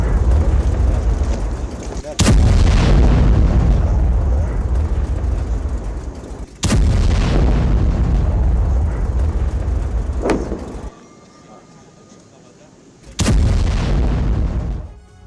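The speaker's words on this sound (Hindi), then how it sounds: "इजरायली फोर्स ने गाजा में गिराए बम, हमास के ठिकानों पर की बमबारी" Israeli bombing explosions in Gaza: several loud, deep booms with long rumbling tails, spaced a few seconds apart, with a sharp crack near the end and a short quieter gap between blasts.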